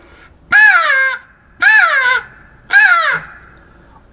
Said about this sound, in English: Next up is a crow call.